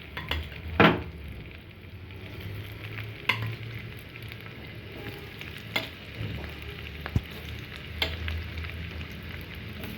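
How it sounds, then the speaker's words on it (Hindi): Cornflour-coated tempeh fries in hot oil with a soft steady sizzle, broken by a few sharp clinks and scrapes of a utensil against the pan, fairly quiet and close. "ऑयल हीट हो गया तो इसमें अब हम डाल देते हैं अपने टेम्पे।"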